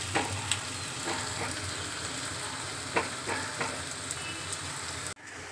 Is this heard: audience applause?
no